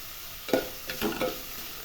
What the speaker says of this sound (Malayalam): കിഴങ്ങ് നല്ലോണം വാട്ടിയെടുക്കാം കുറച്ച് ബ്രൗൺ കളറാവുന്ന വരെ